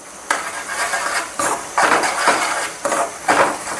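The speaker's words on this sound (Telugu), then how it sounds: "బాగా మిక్స్ చేసుకుందాం" A spoon mixes a spice paste of tomato, coriander and cumin into a pan for mushroom curry. Clattering metal scrapes come in rhythmic bursts about every half second to second, close and fairly loud, with no talking.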